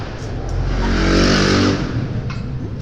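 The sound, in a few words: loud motorbike driving past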